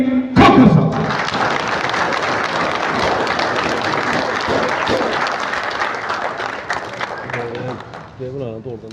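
An audience at a prize distribution ceremony breaks into loud, sustained applause, with many hands clapping densely for several seconds before it thins out at the end.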